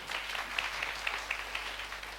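Brief applause at an anniversary ceremony of a Sadguru Kabir Saheb foundation, a moderate crowd clapping steadily with a few sharper claps standing out, close and fairly loud.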